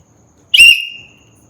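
A person gives one sharp, loud, high whistle that begins abruptly and then tails off over about half a second, with quiet before and after.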